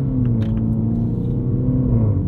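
A 2021 Mini Countryman John Cooper Works engine drones steadily and loudly from inside the cabin while driving in a mid drive setting, a low continuous rumble with slight pitch shifts.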